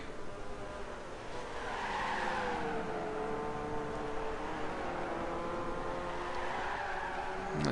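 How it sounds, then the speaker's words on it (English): Race car tires squealing and skidding through a corner, a sustained wavering screech over steady engine roar, loud and continuous throughout with no talk. "A tire squeal"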